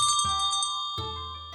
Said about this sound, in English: a ringing bell from the front door grabbed her